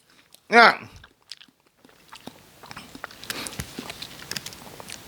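Someone bites into a crunchy-coated grape yogurt ice cream bar and chews, with a brief vocal sound before a run of close, crisp crunching and soft chewing that carries on steadily.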